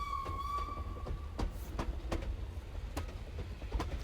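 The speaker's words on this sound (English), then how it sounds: "Oh, the train going by?" A train passes by in a time-travel video game, a steady rumble with rhythmic wheel clacks, brief squeals and a thin high tone fading early, all without speech.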